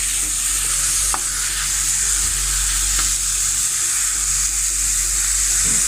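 Onions sautéing in a pan make a loud, continuous close-up sizzle with a couple of faint clinks from stirring, no voices over it.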